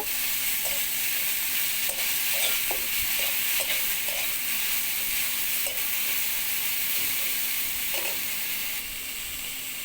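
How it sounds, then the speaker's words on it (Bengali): Hog plums sautéing in a pan with mustard seeds, dry chilli and turmeric, giving a constant hissing sizzle broken by scattered spatula scrapes and knocks. "এবার সেতো করে রাখা আমড়াটা দিয়ে দিলাম ভালোভাবে এবার আমড়াগুলো কষিয়ে নেব"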